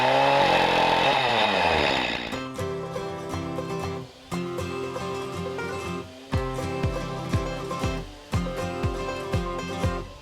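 Loud chainsaw revving hard at first, then dropping to an idling buzz that rises and dips in repeated bursts as it carves into wood.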